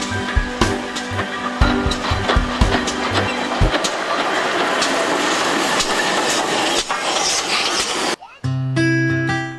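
A heritage train at Hampton Lode station rumbles past with repeated clicking wheel beats and steady broadband rolling noise, loud and close, ending abruptly in a quieter tail.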